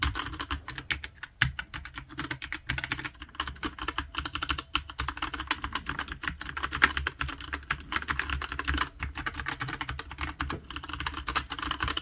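Close, rapid typing on a cheap keyboard fitted with unlubricated brown switches, a dense steady clatter of plasticky key clicks continuing throughout with no voices.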